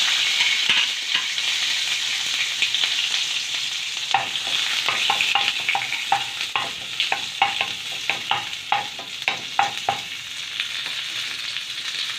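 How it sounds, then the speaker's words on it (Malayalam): Crushed garlic, shallots and curry leaves fry in hot oil in a pan with a loud, continuous sizzle, while a spoon scrapes and stirs in a quick, repeated rhythm close by. "പാനിൽ കുറച്ച് ഓയിൽ ഒഴിച്ചു കൊടുത്തു അതിലേക്ക് നമുക്ക് ചതച്ച് വെച്ച വെളുത്തുള്ളി ചെറിയുള്ളിയും കറിവേപ്പിലയും"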